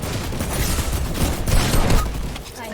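Shotgun fire in Fortnite: several loud, booming blasts run into a dense fusillade with mechanical clatter, continuous for a few seconds.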